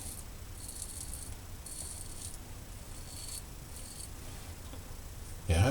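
A Merkur Futur safety razor shaves with noticeable blade chatter and flex: four or five short, raspy scraping strokes in a steady rhythm, close but fairly quiet, ending in a brief louder knock.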